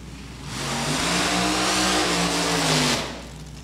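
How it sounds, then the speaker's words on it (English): Supercharged hot rod drag racing engine at the Holley National Hot Rod Reunion firing up, a loud rough roar that swells in after half a second, holds with rising revs for over two seconds, then drops back. "Left lane's fired up. Right lane having trouble firing."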